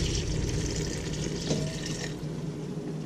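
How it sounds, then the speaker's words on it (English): Ham hock broth poured into a pot of reduced-down collard greens, a continuous splashing, gurgling pour heard up close, tapering off slightly near the end. "Fixing to pour some of the liquid back up in there since I got the collards reduced down."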